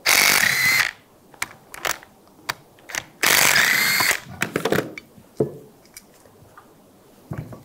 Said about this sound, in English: Use a 14mm socket. Take these bolts out.